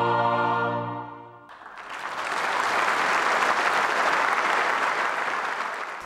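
A concert audience of about 3,500 people rises to its feet in loud, sustained applause, the dense clapping swelling in after a held sung chord and continuing steadily to the end.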